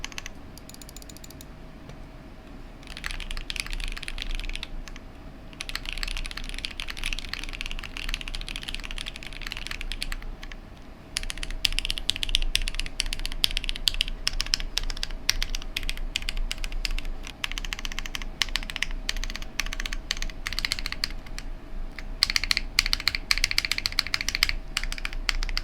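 Typing on a $149 mechanical keyboard with OP black switches on the main section and MX black switches on the numpad, a close, steady stream of rapid clacking keystrokes with a brief pause before the pace picks up again.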